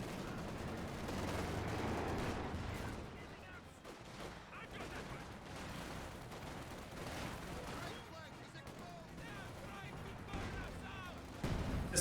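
A Panzerwerfer rocket artillery barrage in Company of Heroes 2, a string of muffled booms and crackling impacts mixed with distant gunfire, fairly quiet and laid under a caster talking.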